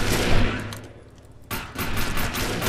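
Loud gunshots ring out in a post-apocalyptic video game: a sharp burst of fire at the start fades into a short lull, then another heavy blast hits with a longer volley after it.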